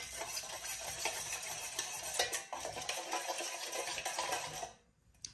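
A spoon stirs an incense mixture in a pot, giving continuous scraping and rattling with a few louder clinks, steady for several seconds before fading to near silence.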